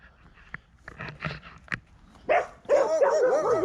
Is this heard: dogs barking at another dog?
yes